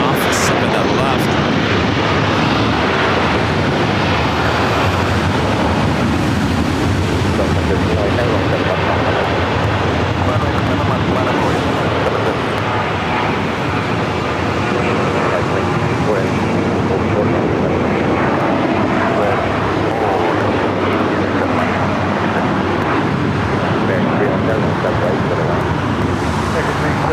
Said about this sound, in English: The corporate flight taking off, 7 left.